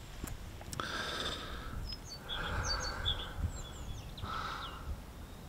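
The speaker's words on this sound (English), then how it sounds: "all you can hear is the wind in the trees and the birds chirping" Birds call outdoors on a farm, a few harsh caws and scattered chirps, over a soft rustling background of wind in the trees with faint insect buzz.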